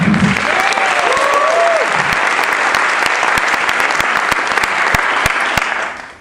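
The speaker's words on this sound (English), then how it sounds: "Let's have a big round of applause for David Zuidema." An audience at an evening talk event applauds loudly and continuously, dense clapping from a full room with a brief whoop early on, fading away at the very end.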